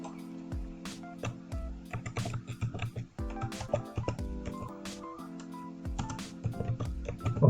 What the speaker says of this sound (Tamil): இதில் ஒரு சிண்டெக்ஸை நாங்கள் டைப் பண்ண போகிறோம்.